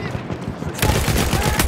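Battlefield 1 gunfire as a rapid automatic burst, loud and close, breaking in after a brief quieter moment and rattling steadily to the end.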